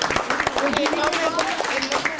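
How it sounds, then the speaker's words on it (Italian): Studio audience applauds a girl youth football player on a local TV show, a steady dense patter of clapping with voices talking over it. "Facciamogli un applauso, sta ragazza."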